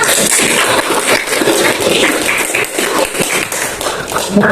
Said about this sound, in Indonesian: Beri tepuk tangan dulu kepada pembicara pro dan kontra kita